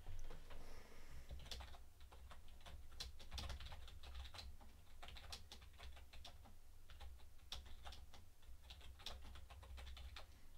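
Quick, light clicks of a computer keyboard as someone types into the chat of a Gmod Prop Hunt game, irregular bursts of keystrokes continuing close and quiet throughout with no talking.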